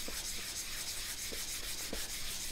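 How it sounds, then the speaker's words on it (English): A revolver's wooden stock is sanded by hand with 320 grit sandpaper under firm pressure in a semicircular motion, giving a soft, close, rhythmic rubbing with regular scratchy strokes. "you just want to apply firm pressure, and you start doing your sanding"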